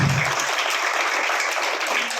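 Loud, dense audience applause for a school's three awards at a ceremony, sustained and steady throughout with no talk over it.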